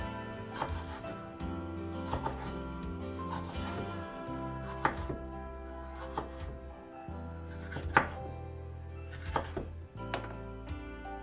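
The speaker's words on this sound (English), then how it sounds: "For the burritos I prefer to cut the peppers and the onion in slices." A knife slices peppers and onion on a board in a string of irregular crisp chops, with steady background music underneath.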